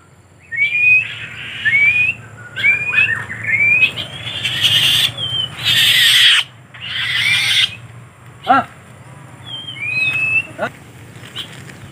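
A tame black-winged kite gives repeated thin, rising whistled calls in short bursts, close by, interspersed with bursts of noisy rustling and a few sharp clicks.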